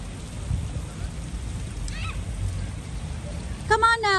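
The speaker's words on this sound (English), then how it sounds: "It is raining." Steady rain falls outdoors in a seaside town in the UK, a continuous broadband hiss that persists throughout, with a brief voice near the end.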